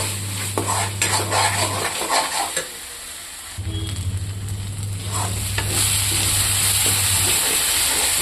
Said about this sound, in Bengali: মশলাটা আমি ভালো করে কষাবো এখন